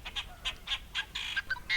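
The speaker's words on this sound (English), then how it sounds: "And lots of baby Canada geese." Canada geese, including young goslings, honk at a wetland in a quick run of short, faint calls, one after another, with no other sounds over them.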